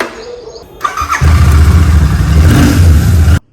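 An E20-compatible motorbike with about 1090 kilometres on it starts and revs, a loud, close engine roar that holds steady for a couple of seconds before cutting off abruptly.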